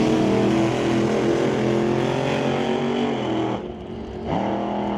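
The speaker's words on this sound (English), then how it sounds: "he's on and off the gas a couple of times" A green Camaro drag race car at an old-time drag meet at Mission Raceway Park roars loudly and steadily, then briefly drops off the throttle and comes back on, with a sharp dip and recovery in the engine note.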